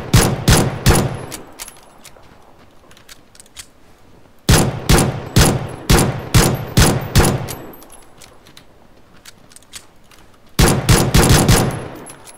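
Bursts of automatic rifle fire in PUBG, three loud rapid volleys of about half a dozen close shots each, separated by quieter gaps of a few seconds.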